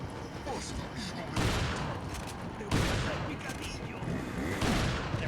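Gunfire in Resident Evil 4 gameplay: three loud, sharp shots spaced over a few seconds, each ringing out over busy game ambience and murmuring voices.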